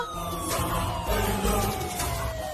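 An ambulance siren wails steadily with a falling pitch sweep, loud and continuous over a low background rumble, with no speech.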